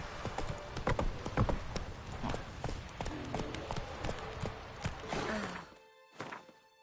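Hooves of the horse Roach clip-clopping in the video game The Witcher 3: Wild Hunt, a steady run of close, hard hoofbeats that slows and stops near the end, with some rustling underneath.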